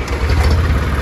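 Farm tractor engine running at a village, a loud, close, low rumbling idle with a steady throb through the brief moment, no voices.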